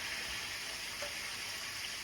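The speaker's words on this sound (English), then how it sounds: "pour in boiling water, never cold." Boiling water pours steadily into a pot of pork ribs and spices, a continuous close rushing splash that holds even for about two seconds with no talking.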